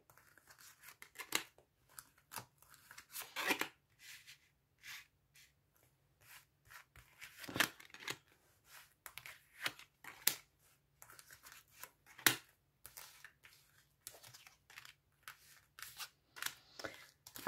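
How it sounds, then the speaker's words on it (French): Tarot cards spread out one by one on a table, soft irregular slides, flicks and papery taps at close range, sparse and quiet with gaps between placements. "j'étale mes cartes"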